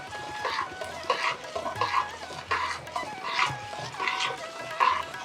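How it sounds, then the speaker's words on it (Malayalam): Coconut milk being stirred into banana payasam (pazham pradhaman) in a pot, with steady, repeated swishing strokes in an even rhythm, close and moderately loud, over a faint low background hum. "ഇളക്കി കൊടുത്തോണ്ടിരിക്കണം."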